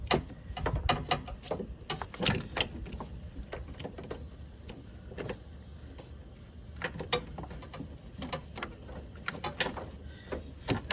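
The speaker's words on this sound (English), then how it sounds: "fish in a universal joint and the socket to loosen that one up" A ratchet fitted with a universal joint and socket loosens a motor mount bolt on a Honda Civic, giving bursts of close, sharp ratcheting clicks with short pauses between strokes.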